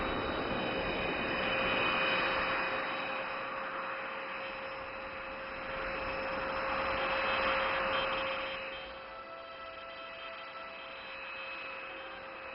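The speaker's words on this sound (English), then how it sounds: "Ladies and gentlemen, the HTT-40 taking off." HAL HTT-40 trainer aircraft taking off at an Aero India air show at Yelahanka, Bangalore, a steady loud engine roar and whine with a sustained tone, swelling and easing in waves, with no voices.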